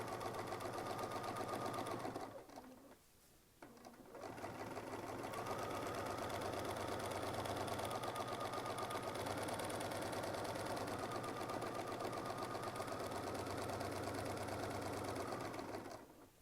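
Sewing machine doing free-motion quilting on a baby quilt, a fast continuous whirring stitch that stops for about two seconds, then resumes and runs steadily to the end.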